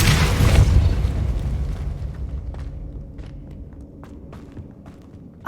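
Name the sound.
Depulso spell in the video game Hogwarts Legacy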